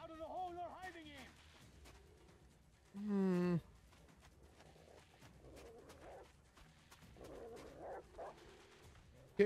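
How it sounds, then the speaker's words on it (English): Dogs bark in the Metro Exodus video game, with one loud yelp-like burst and some fainter calls mixed under ongoing talk and game ambience. "Getting closer to the dogs."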